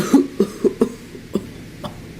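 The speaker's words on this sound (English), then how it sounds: "Henry coughed feebly." Steam locomotive coughing feebly on a turntable, rendered as a series of short, wheezy, cough-like bursts, about six spaced irregularly and fading toward the end.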